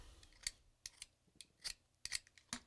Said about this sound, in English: Sharpen it like a woodworker's pencil.